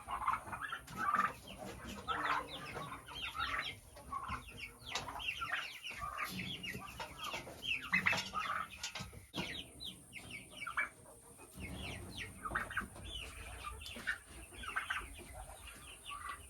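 Chickens and young cockerels in a poultry house with an outdoor pen cluck and chirp almost nonstop. The calls overlap at close to moderate distance, some louder bursts rise above the flock, and faint background noise runs underneath.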